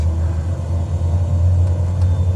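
Turboprop engine of a Pilatus PC-12 in a flight simulator with the throttle in reverse, a loud steady low rumble held throughout without a break.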